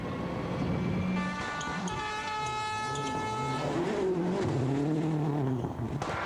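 A rally car at speed on a WRC Rally GB stage, engine note rising and falling in steady sweeps through gear changes as it passes, heard at moderate distance over continuous background noise.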